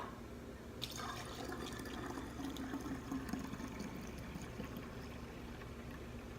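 Distilled water pours into a bottle in a quiet room, a soft steady trickle and gurgle running for several seconds without any talking.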